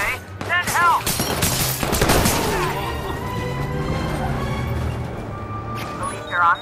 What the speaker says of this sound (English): I think somebody's shooting a gun